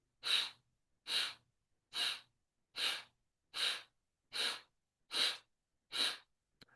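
Eight evenly spaced breaths drawn through the left nostril during a breathing exercise, each a soft airy rush of about half a second separated by brief silences, close and clear with no talking.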